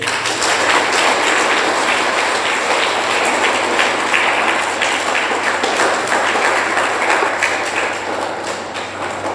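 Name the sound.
hostel students applauding loudly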